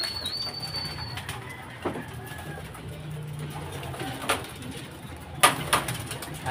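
Racing pigeons are released at a Camiguin Island invitational race, giving soft coos, a few bursts of wing flapping and several sharp clatters over quiet background noise, with faint voices nearby.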